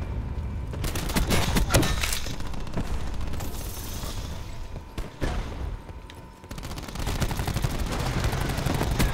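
Gunfire in Call of Duty Black Ops 4 crackles in repeated rapid bursts and single sharp shots, moderately loud, over a busy game soundscape across several seconds.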